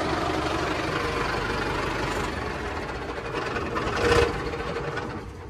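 A Mahindra Arjun 555 tractor engine runs steadily while its hydraulic lift is checked. The rumble is close and continuous and swells briefly near the end.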